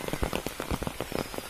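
Rain falls in a Bihar village, a dense steady patter of drops striking nearby surfaces, close and moderately loud with no voices.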